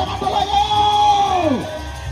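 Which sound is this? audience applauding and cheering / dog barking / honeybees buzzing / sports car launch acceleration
audience applauding and cheering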